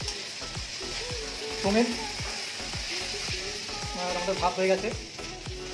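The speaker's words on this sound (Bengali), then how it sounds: "আমাদের রান্না হচ্ছে। বেগুন ভাজা" Brinjal slices fry in a pan with a steady close sizzle and rapid crackling, while a voice talks briefly over the cooking.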